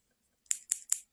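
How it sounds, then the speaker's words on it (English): Three quick snips of scissors, close and crisp, evenly spaced in a brief burst against near silence. "I'm just fidgeting with scissors right now."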